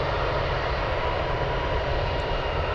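Atlas Air MD-11 cargo jet at Anchorage airport, engines spooling up for takeoff: a steady, loud, broadband roar with deep rumble, continuous and unbroken throughout.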